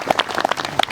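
Church congregation clapping in a short burst, a quick run of close, sharp claps with no talking.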